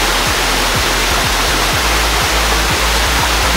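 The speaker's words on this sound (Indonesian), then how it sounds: "Di atas ini ada air terjun." Steady loud roar of a waterfall on Mount Gede, Indonesia, a dense continuous rush of falling water with low rhythmic thumps underneath, no voices.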